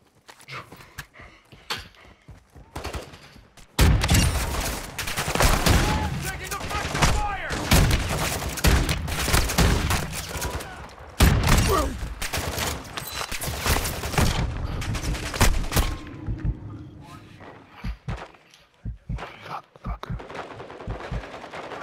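Heavy gunfire in the shooter game DMZ, with dense bursts of automatic fire and sharp single shots coming in loud waves and brief lulls, some faint voices in between.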